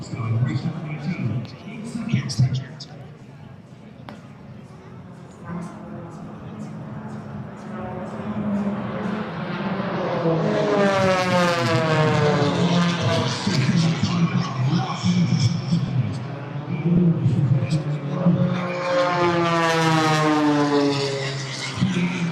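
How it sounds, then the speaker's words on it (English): A silver H540 V3 aerobatic plane performs over a river at an airshow, its propeller engine droning and rising into a loud wavering whine as it banks and passes, with a commentator talking over it throughout. "the Czech pilot Peter Kopstein in the beautiful silver liveried H540 V3."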